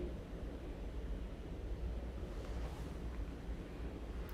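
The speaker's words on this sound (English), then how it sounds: "But it is windy." Strong wind and surf during Hurricane Ian on the Florida coast, a steady roar of gusts and breaking waves buffeting the microphone, moderately faint and with no voices.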